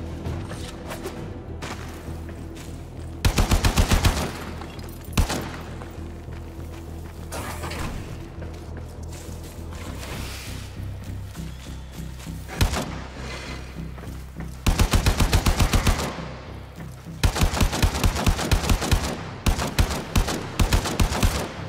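Weapon gunfire in Warframe: bursts of rapid automatic fire come in clusters, with single heavy shots and mechanical clanks between them, loud and close over a low droning game soundtrack.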